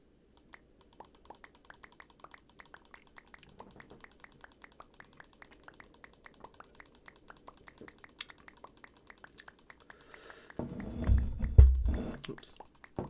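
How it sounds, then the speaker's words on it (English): Steady, rapid clicking repeats for many seconds while blocks are placed in the Minecraft modpack TerraFirmaCraft Reloaded. The clicks are quiet and close, then a louder rumbling burst covers them near the end. "This is what 3 stacks worth of clicking sounds like."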